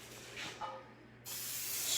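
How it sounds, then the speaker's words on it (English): Cooking spray hisses into a high-walled 9x13 Pyrex baking pan, a close, steady aerosol spray that breaks briefly and resumes louder for the rest of the clip. "I'm going to go ahead and just spray"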